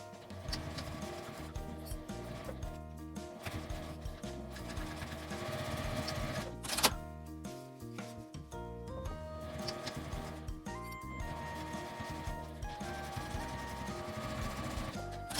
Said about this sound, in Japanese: 両端を1センチの縫い代で縫います。